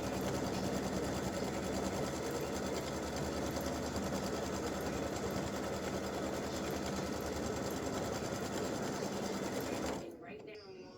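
Sewing machine stitching a placement stitch on fabric for an Easter bunny appliqué, a loud steady mechanical whir running continuously for about ten seconds before stopping abruptly.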